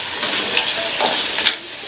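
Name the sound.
radish sautéing in a pan over medium flame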